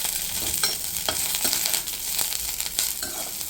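Curry leaves fry alongside mustard seeds in hot oil in a pan, a dense close sizzle with crackling pops and stirring scrapes throughout, no voices.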